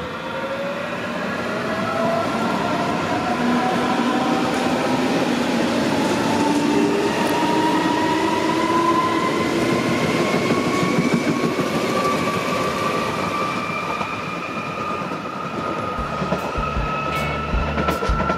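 S-Bahn commuter train on the S5 line between Frankfurt and Friedrichsdorf rolling steadily along the rails, a continuous rumble with rising and falling motor whine, faint wheel squeals and clicks near the end.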